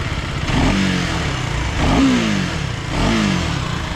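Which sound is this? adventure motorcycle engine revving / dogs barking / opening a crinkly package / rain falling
adventure motorcycle engine revving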